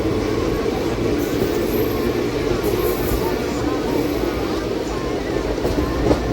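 Near Brahmapur on the Bhubaneswar to Vizag line, an Intercity Superfast runs at speed, filling the carriage with a loud, continuous roar and faint rhythmic clatter of wheels over rail joints.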